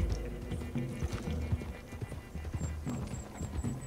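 Horse hooves clip-clop steadily in Red Dead Redemption 2, a dense rapid gallop rumbling close and loud over a low, busy background, with an occasional soft whinny and no talk.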